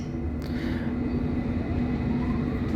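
A London Underground Metropolitan Line all-station train bound for Uxbridge, heard from inside as a steady, close rumbling roar with a low hum and rail noise running throughout.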